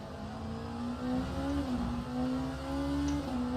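GT3 race cars accelerate in a racing video game, a steady mid-pitched engine drone rising and easing slightly as the revs shift, continuous and fairly even in level with no voices.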